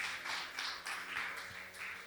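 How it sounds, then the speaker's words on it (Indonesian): A church congregation clapping for God during a sermon, with a steady, rhythmic beat of joined claps, fairly faint and without talk over it. "Kasih tepuk tangan bagi Tuhan."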